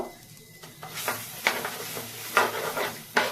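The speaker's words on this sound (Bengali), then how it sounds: "ভালো করে ধুয়ে শুকনো ইসের মধ্যে ভেজে নেব, শুকনো চাটুর মধ্যে ভেজে নেব" Washed red lentils are dry-roasted on a hot tawa, giving a soft continuous rustle and scrape with a few sharper stirring clicks of a utensil against the pan, close and fairly quiet.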